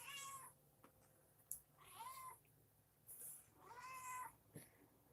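A cat meows indoors, three drawn-out meows spaced a second or two apart, moderately close with quiet room background between them.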